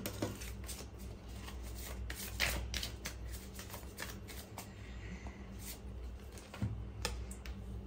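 Tarot-style cards shuffled and one drawn for a card reading: steady quick papery flicks and riffles, close and quiet, with no speech.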